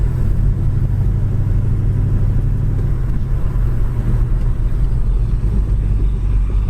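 A 1972 Chevy Nova SS being driven gives a steady, loud low engine rumble with road noise, holding an even drone throughout with no voices.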